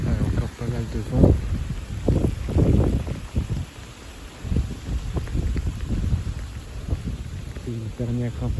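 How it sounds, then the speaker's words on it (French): Gusty squall wind blows in a broad, rough rumble with a cold rain shower following, while someone talks over it in French. "C'est une dernière rafale descendante"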